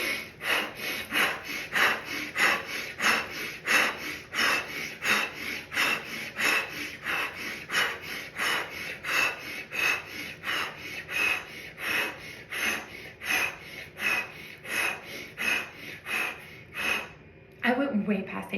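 Rapid fire breathing during a breathwork session: quick, forceful, evenly paced breaths pulse close and loud in a steady rhythm of roughly one or two per second, ending in a brief pause.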